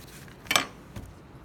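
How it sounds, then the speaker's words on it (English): A knife tool cuts a slab of clay during hand building, giving two short, light scraping clicks about half a second apart, the first sharper and louder, both close and faint against a quiet background. "I can use my knife tool,"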